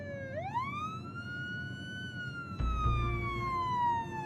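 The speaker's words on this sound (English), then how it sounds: "As the sirens grew louder," A police siren from a video game wails with a rising then slowly falling pitch, steady and fairly close, with a low rumble joining partway through.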